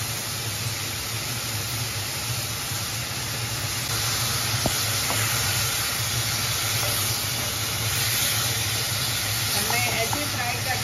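Potatoes, cauliflower and peas frying in a pan on a stove, giving a steady, even hiss that holds for the whole stretch with a few faint clicks, loud and continuous with no talking.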